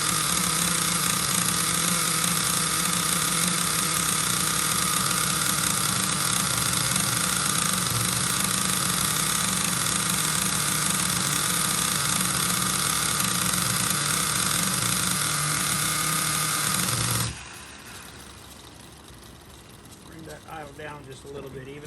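An XTM Nitro Monster MT RC truck's small nitro engine runs at a loud, steady buzzing idle close by for about seventeen seconds, then cuts off abruptly, leaving quiet background.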